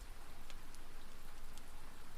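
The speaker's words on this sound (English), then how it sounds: "Outside, the last of the rain fell." Rain falls on a garden with bird bath, stone path and roses, giving a dense, even patter and hiss that stays close and steady throughout, with a few faint individual drips standing out.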